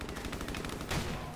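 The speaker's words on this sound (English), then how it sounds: "a guy with a shotgun that has infinite ammo" Gunfire from a shotgun in the video game Modern Warfare Remastered, a dense, loud burst of repeated blasts filling the short stretch with a stronger shot near the end.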